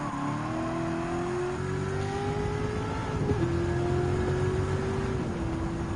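A Pontiac Firebird Trans Am race car in Gran Turismo 7 drones steadily as its engine climbs through the revs, with a brief shift dip before it pulls on at high pitch among other cars.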